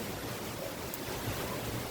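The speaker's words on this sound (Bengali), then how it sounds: "দেখো কিভাবে হাওয়া বইছে, ঝড় উঠে গেল।" A gusty wind picks up outdoors in the village as a rainstorm begins, a soft, steady rushing noise that swells slightly for about two seconds and is heard alone.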